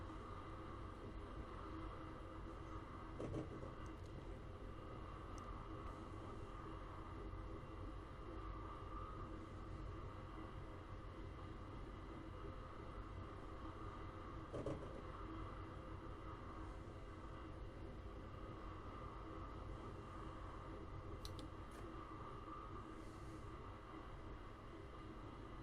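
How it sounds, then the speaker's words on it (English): An Amtrak passenger train rolling along the tracks, a faint continuous rumble and hum with occasional soft clanks, steady and even throughout. "you can hear it kind of transitioning down the train tracks"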